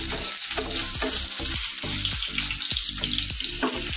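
Onions frying in a pan give a steady, close sizzle, with a spoon or spatula scraping and stirring at regular intervals throughout.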